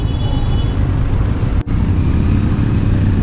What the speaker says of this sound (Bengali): প্রচণ্ড জ্যাম লেগে গেছে এখানে একে তো রেলগেট তারপর রাস্তার কাজ হচ্ছে